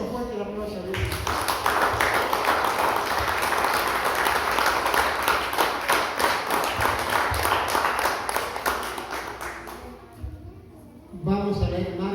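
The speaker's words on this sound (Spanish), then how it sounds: "Déselo fuerte el aplauso a Dios." Church congregation applauding at a Spanish-language worship service, loud sustained clapping from many hands lasting about ten seconds before fading, then a voice resumes speaking.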